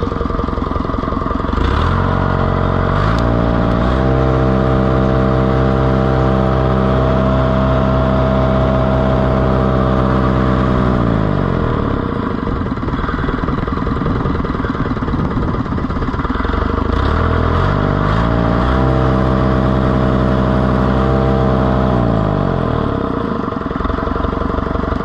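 Oliver 1450 tractor engine running with its air cleaner cup missing, a loud, close, steady diesel rumble that revs up and down in repeated cycles, with no talking.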